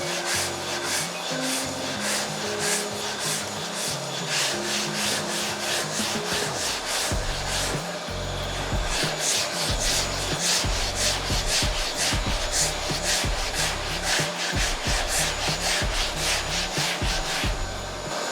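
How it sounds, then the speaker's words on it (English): Hand sanding of car body filler on an XC Falcon panel van roof, using a long board with 80 grit paper: steady, close strokes of rough scraping that run continuously and grow louder and faster partway through. "So I'm using the long board with some 80 grit."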